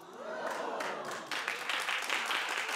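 A talk-show studio audience applauds with a fairly soft, uneven patter of clapping that grows a little fuller partway through. It is heard at some distance.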